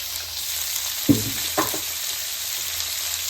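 Onion, green chili, ginger and carrot hit hot oil for a masala dosa filling, giving a steady close sizzle with two sharp bursts as the vegetables drop into the pan, then continuous frying with no talk.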